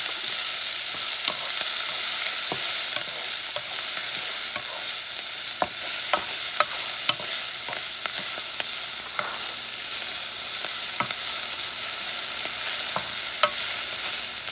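Mushrooms sizzle loudly in a hot pan as they are stirred, a dense continuous frying hiss punctuated by sharp utensil clicks and scrapes, with no talking.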